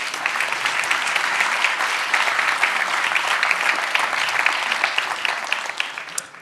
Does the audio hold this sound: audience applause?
yes